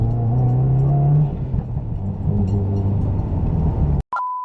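A 2015 Subaru WRX with a newly installed intake accelerating through a second gear pull from 3,000 rpm, loud rising engine drone and whoosh heard from inside the car, ending in an abrupt cutoff.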